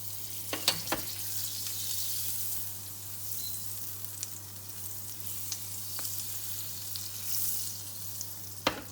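A keto pancake fries in butter in a pan, giving a steady, quiet sizzle with a few sharp clicks near the start and scattered faint ticks throughout, under a low constant hum.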